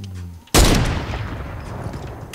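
A single loud, close sniper shot cracks out in a video game, with its long rumbling echo rolling off afterward; faint talk is heard just before it.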